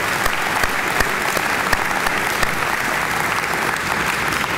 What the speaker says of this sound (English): let's thank and applaud the young men who helped tonight, the honor guard and the band